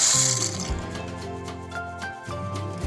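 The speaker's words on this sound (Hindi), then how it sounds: "सबसे पहले हल्का सा बॉयल करेंगे मैक्रोनी को।" Macaroni boils in a pot of water, giving soft liquid bubbling and dripping textures over a steady low background hum.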